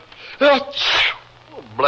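A single sharp sneeze from a radio drama performer bursts out near the start, followed by a breathy exhale and a faint vocal sound at the end.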